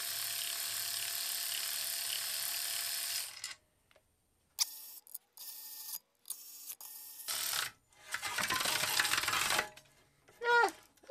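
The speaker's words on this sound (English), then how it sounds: "This has to be the smallest ratchet out there." An 1980s Black & Decker power ratchet converted to lithium battery power runs in several bursts: a long whirring spin, then short stop-start pulses with clicks, and a final brief run with a rising whine, separated by quiet gaps.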